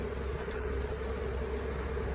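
Honeybees buzz steadily in an open hive, a dense close hum with no talk over it.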